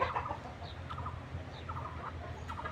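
Free-ranging chickens feeding on grass in a garden cluck quietly in short, scattered calls over faint outdoor background noise.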